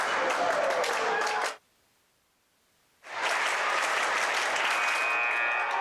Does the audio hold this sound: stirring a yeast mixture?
no